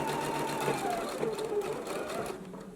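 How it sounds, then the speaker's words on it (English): A sewing machine runs steadily, stitching a 5/8 inch seam allowance on a garment cuff from McCall's pattern 8312, its close, continuous whirring hum unbroken for the whole stretch. "we're going to stitch it down at a 5/8 inch seam allowance"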